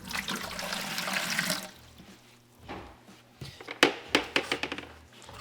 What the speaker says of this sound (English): I start with a little bit of water in the bottom of our mixing bucket